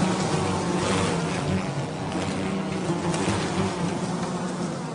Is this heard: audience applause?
no